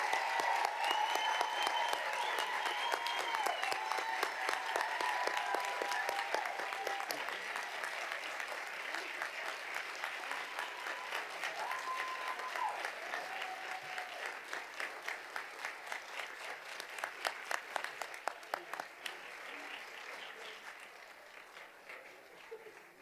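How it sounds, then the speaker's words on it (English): Sustained audience applause at a school board meeting honoring the teacher of the year, dense clapping from a large room that holds steady for over twenty seconds, then thins into scattered louder claps and fades near the end, with faint voices underneath. "everyone please join me in a loud round of applause for Eileen D'Amato"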